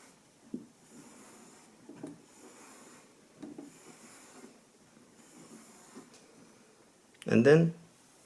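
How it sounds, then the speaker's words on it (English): A knife blade drawn along a sharpening strop gives soft, periodic rubbing strokes roughly every second and a half, faint and close, ending in one louder scraping burst. "Again, this time only pull away from the edge."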